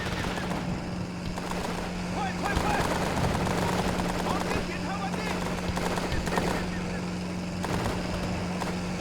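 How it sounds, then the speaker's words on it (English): Sustained gunfire and explosions in the military shooter game Operation Flashpoint: Dragon Rising, a loud, dense battle with steady rumble and overlapping shots, and shouted voices mixed in. "Shots fired!"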